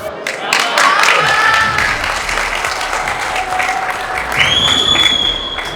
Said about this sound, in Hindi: बहुत ही जोरदार तालियों के साथ स्वागत करें।